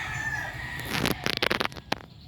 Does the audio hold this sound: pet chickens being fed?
yes